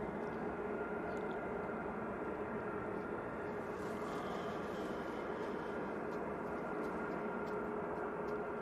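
A Lufthansa A321 airliner rolling for takeoff at Manchester Airport, a steady broad jet roar heard from a distance that holds at an even level throughout, with no voices.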